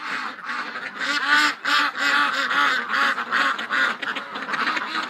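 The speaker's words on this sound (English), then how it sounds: "Holy mackerel, keep it down, ducks!" A flock of ducks quacks and honks continuously in a winter setting, dense overlapping calls close by and loud, keeping up a steady chattering rhythm throughout.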